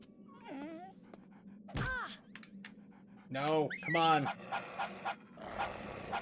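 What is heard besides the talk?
dog whimpering in a Metal Gear Solid video game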